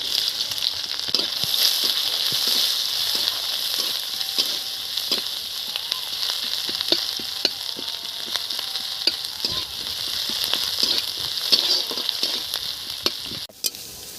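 Dried chili, garlic and onion fry in a pan for a khesari dal with Malabar spinach, giving a steady, loud close sizzle with constant crackle and small stirring clicks throughout, no talking.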